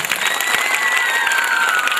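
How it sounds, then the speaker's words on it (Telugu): An audience at a school anniversary day function claps hard and steadily, a dense, even wash of applause with a few cheers and high shouts mixed in, filling the whole stretch without any speech. "ఒకసారి గట్టిగా క్లాప్స్ అండి"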